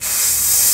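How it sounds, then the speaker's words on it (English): An aerosol spray can lets out a sharp, close hiss that starts abruptly and holds steady as one continuous burst. "let's just spray"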